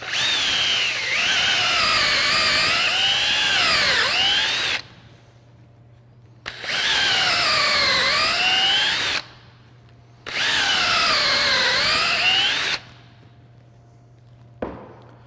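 A power drill bores injection holes into a tree trunk in three separate runs of about four seconds each, whining loudly and steadily, with short pauses between them.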